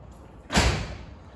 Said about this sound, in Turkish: bir kapı sesi verelim. Tabii kapı sesini verebilirsiniz.